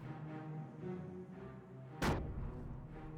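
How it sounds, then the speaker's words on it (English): A single sharp explosion in a Company of Heroes 1 battle, a sudden loud boom midway through a low background rumble of engines and distant combat. "There's just a lot of explosion there."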